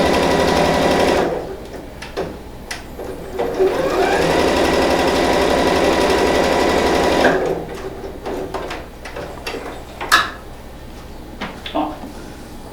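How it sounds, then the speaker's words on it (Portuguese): A sewing machine with its presser foot down stitches a leather-style wallet piece in one fast, steady run of several seconds, followed by brief clicks and handling noises as the fabric is adjusted. "vou costurar somente essa parte aqui, ó, de cima, ok? Vou utilizar pezinho de máquina."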